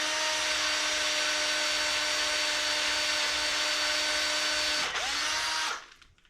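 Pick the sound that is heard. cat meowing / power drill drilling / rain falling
power drill drilling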